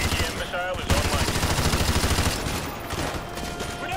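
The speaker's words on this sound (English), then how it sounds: "AGM missile is online" Rapid automatic gunfire rattles steadily as an AGM missile strike unfolds in Call of Duty: Modern Warfare 2 Remastered, with dense battlefield noise and radio-style voice chatter over it.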